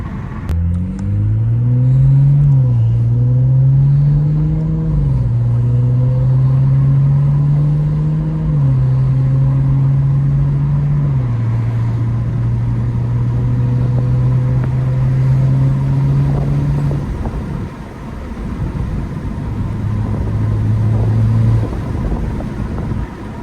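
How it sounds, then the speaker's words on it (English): A BMW N55 engine hums and revs up and down while driving, cold and warming up, steady and loud with rising and falling pitch, then briefly dropping before picking up again. "Just trying to warm up the car before we get there."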